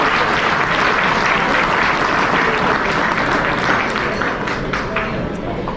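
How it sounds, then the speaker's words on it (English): Loud, sustained applause from a large gala dinner audience honoring the chefs, a thick wash of clapping and crowd noise that holds steady before easing slightly at the end. "Can we have a round of applause for all of our chefs and their culinary interests?"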